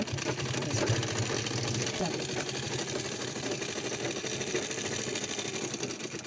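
A sewing machine stitches a border on a puff-sleeve garment, its motor whirring in a steady, close, unbroken run with a voice speaking faintly over it.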